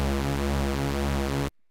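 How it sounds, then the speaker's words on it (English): A synth bass note with its pulse width swept by an LFO, giving a sustained, buzzy, detuned tone that wobbles steadily for about a second and a half before stopping cleanly. "So now we get that kind of almost like detuned, kind of wobbly sound."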